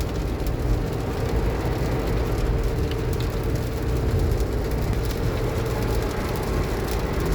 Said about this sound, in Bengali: এত ভারী বৃষ্টি